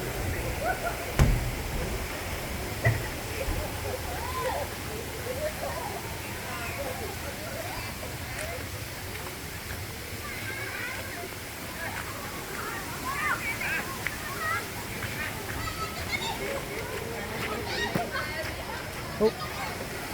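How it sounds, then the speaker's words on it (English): Waterfall in a series of four falls at an outdoor site, rushing water giving a steady wash of noise throughout, with a crowd's chatter and voices underneath. "And then making a waterfall here."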